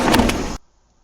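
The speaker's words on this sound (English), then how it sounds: "An open desk drawer." A desk drawer sliding open in a video game, a short loud scraping rattle with two sharp knocks that cuts off abruptly into silence.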